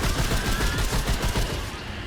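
Gunfire in the video game Remnant 2: a rapid, sustained burst of loud shots in quick succession, close and dense, easing slightly near the end.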